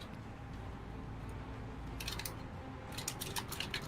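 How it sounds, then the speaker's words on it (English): Keyboard keys come through a voice chat during an online tabletop game, with clusters of rapid, faint clicks in two short bursts over a steady low hiss. "Also, I believe Aiden, you can hear your typing"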